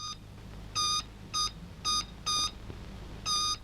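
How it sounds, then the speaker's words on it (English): A Morse code buzzer in a naval wireless training room sends a series of short and longer steady tones, six in all, close and clear over a low hum. "The hive, as it were, of wireless training is the buzzer room."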